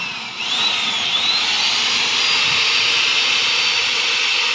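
Power drill boring fresh holes into a damaged tube on a New Holland 640 tractor during repair, a steady high-pitched whine running continuously and loud, close by, with no voices.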